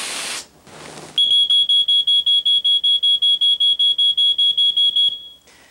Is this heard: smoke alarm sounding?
yes